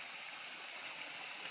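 Water rushes along a rainforest stream near a waterfall at Dunukaragoda Ali, a steady, even hiss of flowing water close by, with no other sounds.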